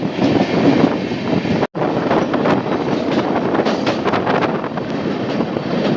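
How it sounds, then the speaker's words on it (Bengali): The Humsafar Express train crossing the historic Nasipur rail bridge, heard from on board as a loud, continuous rumbling roar with rattling clatter, broken briefly by a momentary dropout. "দেখো আমরা এখন সেই ঐতিহাসিক এই রশিপুর রেল ব্রিজ পার করছি"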